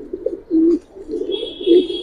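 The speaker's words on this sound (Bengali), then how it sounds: "আর দুইটা সাদা রিং কবুতর" White ring pigeons coo in short, close, soft bursts, with two longer coos standing out in a quiet setting; a faint higher tone enters near the end.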